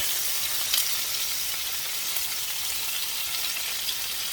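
Pork chops sear in a hot pan for smothered pork chops in brown gravy, giving a loud, steady sizzling hiss throughout with one brief crackle near the start and no voices.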